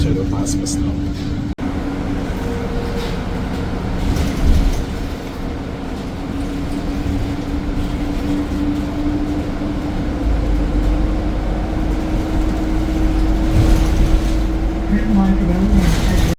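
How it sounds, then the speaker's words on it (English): Interior of a moving Baltimore city bus, with a steady engine drone and road rumble, rattles and shifting tones over a long ride, and a person speaking over the noise. "So I'm on the Baltimore bus."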